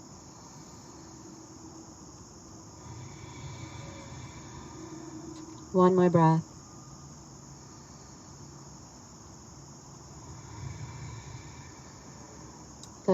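Insects in an open outdoor field keep up a continuous, even buzz at moderate level throughout, with a calm voice speaking briefly and a short louder noise midway.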